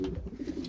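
Pigeons in a loft with chicks and eggs give low, soft, throaty cooing, a brief close murmur without speech.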